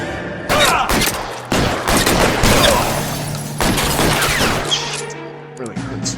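Dense, loud gunfire in the L.A. Noire video game, a chaotic run of overlapping shots and booms filling the whole stretch, with a voice talking over it.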